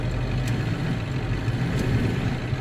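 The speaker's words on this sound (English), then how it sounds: "Engine sounds good with the fresh oil." A Ford E-Series 7.3 engine runs steadily after an oil change, a low, even idling drone with a faint hum throughout and no talking.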